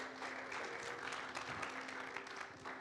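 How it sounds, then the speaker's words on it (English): Church congregation at a Sunday service applauding a guest speaker and his family, a faint, steady wash of clapping heard from a distance with a low hum underneath. "Let's give him and his family a warm round of applause."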